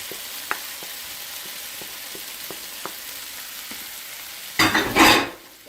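Potatoes hiss softly in a pan with scattered light taps, then a louder burst of sizzling and scraping near the end as they are stirred.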